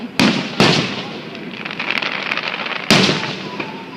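Fireworks burst at a July 4th show in California, three sharp booms standing out over a crackling, hissing background of distant pops, with people chatting and exclaiming nearby.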